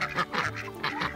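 Backyard chickens make a quick series of nasal, honking clucks in close succession, loud and near, with no talking over them.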